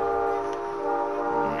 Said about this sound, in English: Train is clear.